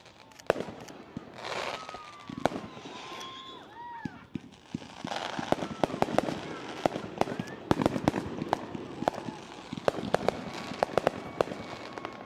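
Fireworks burst in the distance at a wedding, a dense irregular run of sharp cracks and pops with whistling trails, continuing throughout while people talk intermittently nearby.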